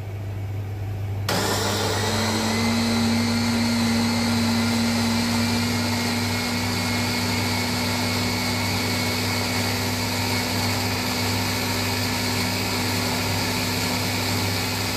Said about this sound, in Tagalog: Blender na natin.